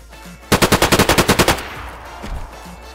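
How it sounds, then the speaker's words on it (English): Automatic gunfire in the survival video game DayZ, a loud, close burst of about eleven rapid evenly spaced shots lasting roughly a second, with no talk over it. "What is that gun? It has zero fucking bullet sound and it's shooting me."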